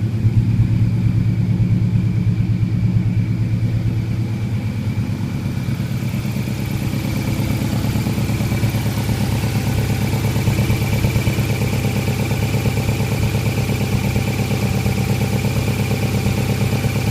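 A 2002 Subaru WRX engine swapped into a 1999 Forester idles steadily and smoothly, a close, even low rumble with a light rhythmic clatter running unbroken throughout.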